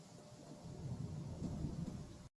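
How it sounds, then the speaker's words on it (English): Heavy rain pours down steadily beside a muddy swamp, a dense low roar with the deep rumble of thunder swelling through it, then cutting off abruptly. "trying to drown out the sound of the downpour with the TV"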